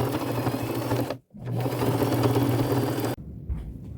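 A sewing machine stitches a seam along the side of a dress being made into a patchwork coat, its steady mechanical whir running close and continuous, with a brief pause partway and a stop near the end.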